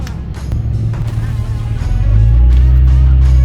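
A loud, deep vintage race car engine roar builds and holds steady, rumbling with a booming, enclosed tunnel resonance as the car accelerates past close by at Canadian Tire Motorsport Park.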